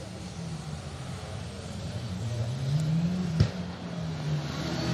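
A BMW rally car races on the Cadwell Park circuit during a circuit rally championship stage, its engine note climbing and falling as it drives past, with a sharp knock midway and commentary voices underneath.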